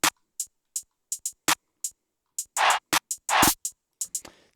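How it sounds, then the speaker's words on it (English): Snare drum sample with swing in an ambient beat, its short snappy hits alternating with fuller, noisier snare strikes among quick ticking percussion, all close and dry with no voices. "this little snare here"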